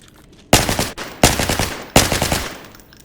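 Three bursts of automatic fire from an AN-94 rifle in the shooter Arena Breakout: Infinite, loud and close, each burst a quick run of cracking shots separated by brief pauses.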